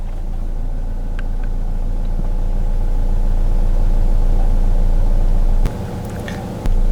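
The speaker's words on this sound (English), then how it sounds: "to turn on the engine, just apply the clutch and turn the key" A car engine idles steadily after starting, a low continuous rumble holding level for several seconds before a brief drop and return near the end, with no talking.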